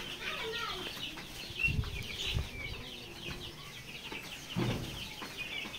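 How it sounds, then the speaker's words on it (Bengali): Farm chickens and roosters, including a white rooster, make faint clucking sounds and short bursts of wing flapping at a moderate distance, over low background noise. "ওই সাদা মোরগ ওইটা এটা মোরগ হ্যাঁ হ্যাঁ এটা মোরগ"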